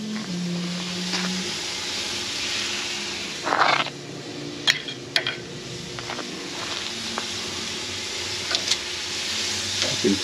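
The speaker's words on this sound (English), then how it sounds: "Sizzle, sizzle." Meat basted with duck fat sizzles on a grill right above an open fire, a steady close hiss with a few sharp crackles and pops scattered throughout.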